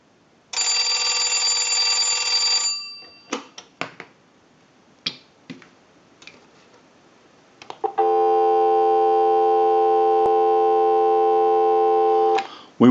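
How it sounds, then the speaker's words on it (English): A converted Northern Electric three-slot payphone gives a short final bell burst and a few sharp clicks, then a loud, steady dial tone hums for several seconds with no talking. "we'll give you some dial tone"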